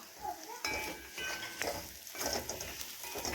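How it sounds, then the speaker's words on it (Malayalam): Cauliflower curry stirred in a pot, with a few clinks and scrapes of a utensil over a soft, steady sizzle, close and moderately quiet. "അപ്പോൾ അതാ നമുക്ക് ഒന്നുകൂടെ ഇളക്കിയിടാം കേട്ടോ"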